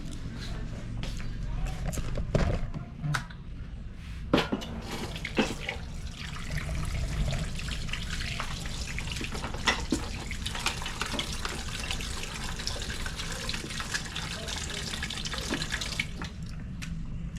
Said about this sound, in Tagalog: pag maghugas daw ako ng plato dito, dapat hindi daw magtalasik-talasik yung tubig